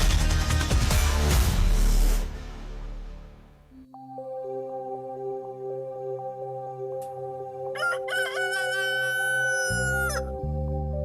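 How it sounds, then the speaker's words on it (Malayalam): A rooster crows once, loud and drawn out, over a sustained musical backdrop after a brief burst of noisy sound at the start. "കോഴി കൂവി, കോഴി കൂവി"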